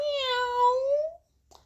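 A single long drawn-out meow from a cat at a flying school, loud and close, clear harmonic cry lasting about a second, followed by a short faint rustle.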